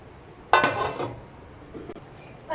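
A lid is set on a pot of simmering chana masala in a home kitchen, giving a close metallic clatter and rattle, a softer clink after a pause, then another brief knock.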